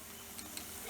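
Akara, Nigerian bean fritters, frying in hot oil, a faint, steady sizzle with a couple of small pops, heard alone without talk.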